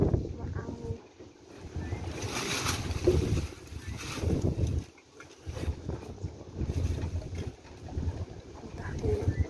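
Strong wind from a dust storm in Saudi Arabia buffets the microphone in heavy, surging gusts with brief lulls between them, and a voice speaks faintly at times beneath the roar.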